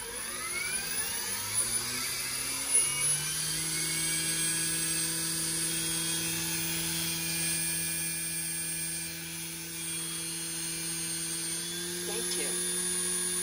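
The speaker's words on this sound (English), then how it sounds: "Motor idle. Time for the test. Motor run. Motor on." An RC helicopter electric motor with a Hobbywing 80 amp ESC and Mikado VControl spins up with a rising whine that settles into a steady, loud high-pitched drone, with brief voices in the background.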